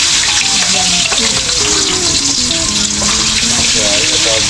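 Bananas sizzle and crackle steadily in hot oil in a pan, a loud, dense frying hiss that goes on throughout, with faint clinks of stirring.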